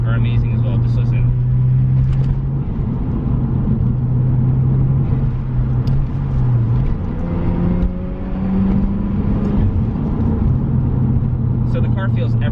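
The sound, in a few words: 1992 Mazda RX-7 rotary engine cruising in third gear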